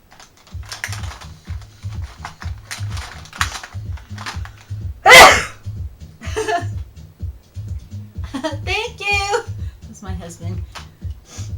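A single sharp, loud sneeze around the middle stands out over a steady rhythmic background beat, with voices and a brief laugh-like sound later.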